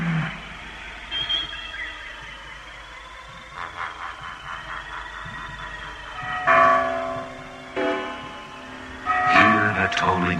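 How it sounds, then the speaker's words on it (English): Iron church bells toll in slow, ringing strokes with long sustained hum tails. Louder strikes swell near the end over a low, rumbling background. "Hear the tolling of the bells, iron bells."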